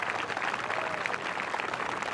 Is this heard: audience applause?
yes